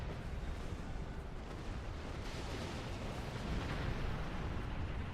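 An explosion in the video game Star Trek Online: a sustained, loud, broad rumbling roar that barely changes over several seconds and swells slightly near the end, with no speech.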